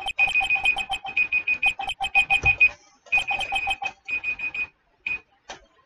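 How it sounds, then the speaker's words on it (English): A phone timer alarm goes off, a loud, close electronic beeping in rapid four-note bursts repeated over and over, then breaking up into shorter bursts before stopping. "Apologies, I had a timer on my phone."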